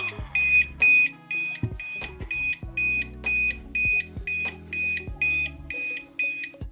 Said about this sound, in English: The Hovershoes do have speakers. They make beeps when it is not balanced.